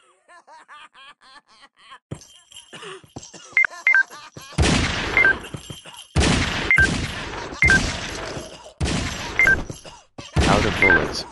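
Bursts of gunfire in the shooting game Circus Master Revenge, several loud broadband volleys in quick succession after quieter electronic game sounds, with short gaps between them.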